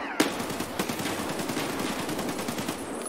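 Automatic gunfire in the video game Escape from Tarkov comes as a sharp opening shot followed by a dense, rapid stream of shots, loud and sustained for several seconds.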